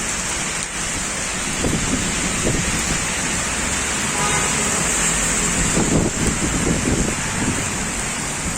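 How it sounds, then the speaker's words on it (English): Heavy rain pours steadily in Shepherds Bush, London, during a summer thunderstorm, a dense continuous hiss with low rumbles of thunder rolling in and out and occasional passing traffic. "Heavy rains"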